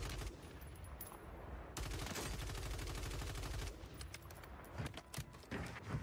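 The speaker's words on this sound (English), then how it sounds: "Why was he shooting through the walls right there?" Rapid bursts of gunfire in a video game, shots fired through walls, rattling volleys that stop and start across the stretch with brief gaps between salvos.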